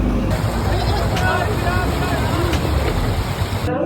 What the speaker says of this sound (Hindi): पानी का बहाव बहुत ज्यादा बढ़ गया है